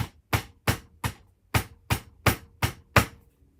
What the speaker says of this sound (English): Another thing I'd like to do is to take my little hammer